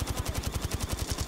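Rapid automatic gunfire from a video game, fired at rocks, a fast steady burst of evenly spaced shots that runs the whole moment at moderate level with no talk.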